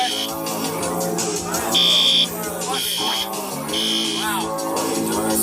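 During a Halloween performance, a fire alarm buzzes in three loud, steady bursts, each roughly half a second long, heard clearly over ongoing musical sound.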